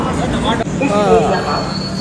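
A train departing rumbles and clatters along with wheels squealing and screeching on the rails, loud and close, a steady mechanical roar throughout.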